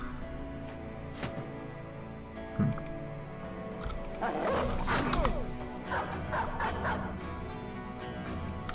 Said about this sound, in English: Dog's doing dog stuff, just running through the formation